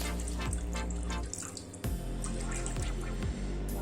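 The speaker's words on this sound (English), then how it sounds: "So I'm adding 1 cup of water, just 1 cup. So I add it here on the pan." A cup of water pours into a pan of beef steak and potatoes with sauce, giving a steady splashing, trickling flow with brief breaks, moderately quiet and close.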